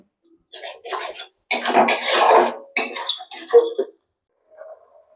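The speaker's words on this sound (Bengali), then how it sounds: "এবার দিয়ে সুন্দর করে পেঁয়াজ আর টমেটোটাকে নেড়ে দিতে হবে।" Onion and tomato paste stirred in a pan for chana masala, heard as several rough scraping and clinking bursts of a utensil against the pan, followed by a short quiet stretch with a faint tail.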